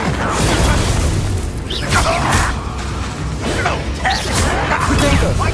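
An Incendio fire spell is cast in the video game Hogwarts Legacy, a whooshing burst of flame amid loud combat clatter and booms, with a voice calling out spells.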